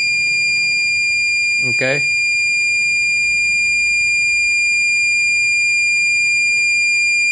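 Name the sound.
beeping when testing a BMW EWS key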